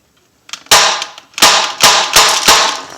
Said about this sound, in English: I'm going to shoot again into this right here.